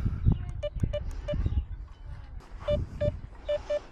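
On a beach in Spain, a metal detector emits short electronic beeps, a few spaced single tones and then quick pairs, over low rumbling wind and movement noise.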